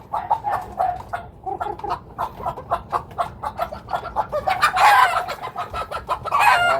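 A stray chicken trapped beneath an upturned basin clucks loudly and repeatedly, close by, in quick rhythmic bursts that rise into a louder squawk near the end.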